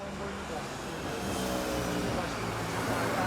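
Cars in President Erdoğan's small motorcade roll along the Eskişehir road, a steady broadband engine and tyre roar that swells slightly as they approach, with a voice speaking over it.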